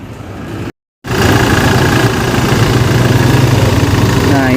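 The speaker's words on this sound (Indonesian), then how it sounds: "Suara mesinnya masih halus karena emang kilometernya rendah" A 2016 Toyota Innova G diesel engine idles close by, a steady low rumble after a brief cut, with a voice speaking faintly over it.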